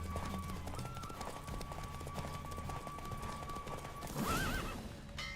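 A horse gallops in a Witcher 3 horse race with rapid, continuous hoofbeats, then lets out a loud, close whinny near the end.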